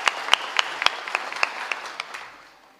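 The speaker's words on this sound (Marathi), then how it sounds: "म्हणून एकदा शिंदे साहेबासाठी टाळ्या वाजवा." Scattered audience clapping at a Marathi kirtan gathering: distinct, fairly close individual claps in an uneven rhythm that thins out and fades over a few seconds, no talking.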